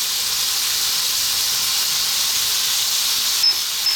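Garlic ginger paste sizzles steadily in a hot pan for a chicken spinach curry, a loud, even hiss holding throughout with no talk.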